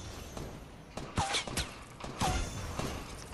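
Gunfire in the video game Fortnite Battle Royale: a few sharp, fairly faint shots and bursts spaced over a few seconds, with quiet game ambience between them.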